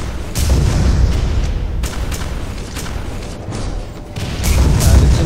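Rocket explosions and heavy weapon fire in the PC shooter Quake 4 make a loud, continuous barrage of booms and rumbling blasts.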